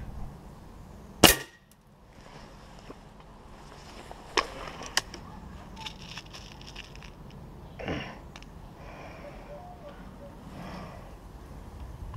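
A single sharp crack from a Stoeger RX20 TAC Dynamic air rifle firing an X-Magnum pellet, followed by quieter handling clicks and rustling.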